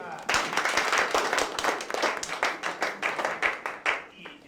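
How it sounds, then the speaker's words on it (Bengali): A crowd claps at a traders' association awards ceremony: a brisk, even run of loud hand claps starting suddenly and continuing steadily before tapering off, heard up close over faint background voices. "হাততালি।"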